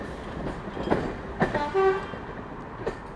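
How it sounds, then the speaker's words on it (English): A Class 108 diesel multiple unit passes on the Midland Railway at Butterley, a rumbling rail roar with several sharp clanks and a brief horn-like tone, fairly close and moderately loud, with no talk. "There it goes, class 108."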